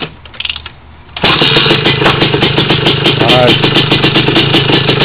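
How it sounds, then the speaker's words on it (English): A cold Honda TRX 250R ATV with a fresh top end fires on a single kick with no choke, then holds a loud, rapid two-stroke idle that stays close, with someone speaking briefly before it catches. "That's how it's supposed to start. One kick."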